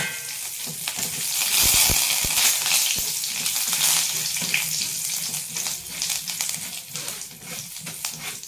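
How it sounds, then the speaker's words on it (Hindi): Dried red chillies and curry leaves roast in hot oil for a poha namkeen, giving a busy, loud crackling sizzle with a few sharp clunks and scrapes of a spoon early on, continuing steadily to the end. "अब इन सबको हम रोस्ट कर लेते हैं"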